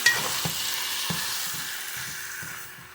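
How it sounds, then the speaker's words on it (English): Spicy chicken curry sizzles steadily in a pot while being stirred, with soft scraping strokes at intervals over a continuous frying hiss, close and moderately loud. "Now give it another stir. Stir it around."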